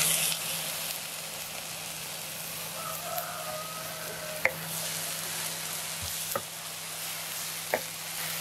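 Ground spice paste sautéing in a pan for Kerala-style chicken pollichathu, a soft even sizzle running throughout, broken by a few sharp stirring clacks against the vessel, close and without speech.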